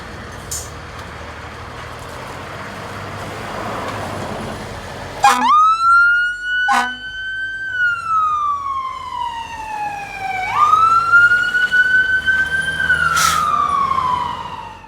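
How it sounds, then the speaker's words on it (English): A fire truck siren wails loudly as the truck responds to a call with its lights on, starting with short blasts and then rising and falling in long sweeps close by over the rumble of the engine. "This is what the truck looks like when it's responding to a call. With its lights going and the siren."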